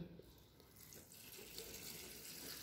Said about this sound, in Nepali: पानी हाल्दियौ यसरी